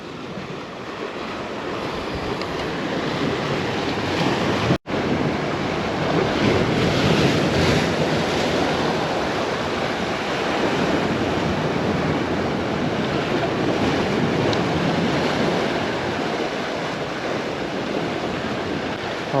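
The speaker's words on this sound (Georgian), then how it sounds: "ძალიან ძლიერი ტალღებია" Powerful sea waves crash on rocks at a rocky shore, roaring continuously, loud and close, with heavy wind buffeting the microphone and a brief sharp dropout partway through.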